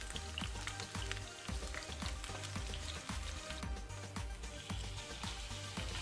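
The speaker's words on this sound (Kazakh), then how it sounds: "енді қуыратын боламыз" Chopped garlic fries in a pan while lagman is being cooked, giving a steady, soft sizzle and crackle that stays level throughout, with no talk.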